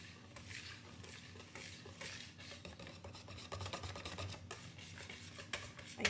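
Spoon stirring castagnaccio chestnut-flour batter in a bowl, soft scraping and rubbing strokes repeating unevenly, quiet and close, with a slightly louder scrape at the end.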